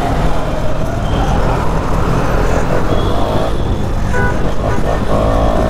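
A motorcycle with a badly worn, bald rear tyre rides along a road, its engine and road rumble loud and close in a steady drone amid traffic, with no talk.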